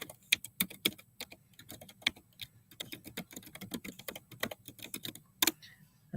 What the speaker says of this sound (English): I'm typing this in StreamYard, not on YouTube